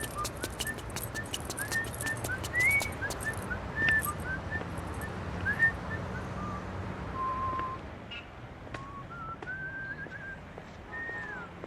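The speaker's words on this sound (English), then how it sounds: "Both Rocky 1 and No More Heroes 1 start with the protagonist whistling their own theme song" A character in the video game No More Heroes whistles his own theme song, a clear melodic tune carried over steady background noise and light clinks, with no talking.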